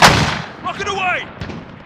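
A rocket fires in the Crow Nest war game with a loud, sharp blast that decays quickly, followed by a voice speaking and a fainter second thud.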